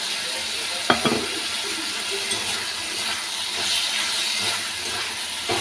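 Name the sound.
potatoes frying in a pan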